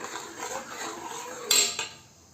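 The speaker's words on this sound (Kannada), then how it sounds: "ಇದನ್ನು ಸ್ವಲ್ಪ ಫ್ರೈ ಮಾಡೋಣ. ಜೊತೆಲಿ ಮಾವಿನ ರಸನ ಆ್ಯಡ್ ಮಾಡೋಣ" A utensil clanks and scrapes against a pan while bamboo fries with mango juice, a soft sizzle under one sharp metallic clatter and a lighter follow-up knock, then quiet.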